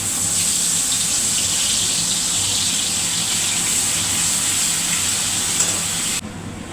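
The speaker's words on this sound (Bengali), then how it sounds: "এবার তেলটা তো গরমই আছে, এর মধ্যে এই যে আমি যে সর্ষেটা বেটেছিলাম ওটা দিয়ে দিই।" Ground mustard paste goes into hot oil and sizzles loudly, a steady close hiss that holds nearly unbroken before dropping off abruptly at the end.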